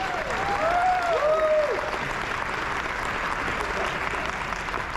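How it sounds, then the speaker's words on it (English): Conference audience applauding as a speaker comes to the stage, a steady dense wash of clapping filling the whole stretch, loudest early, with a faint whistle-like tone near the start. "round of applause for Mitch coming to the stage."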